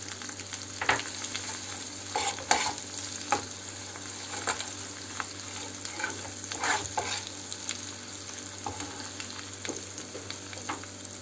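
Dried mint frying in hot oil for a soup sauce topping yoghurt mantı, a steady close sizzle with scattered stirring clicks and scrapes running throughout.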